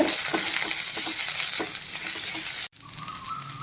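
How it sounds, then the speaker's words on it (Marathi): Onion sautéing in a pan, with a loud, close sizzle and repeated stirring scrapes that break off briefly near the end, followed by a softer sizzle. "त्यानंतर कांदा टाकूया कांदा छान परतून घेत"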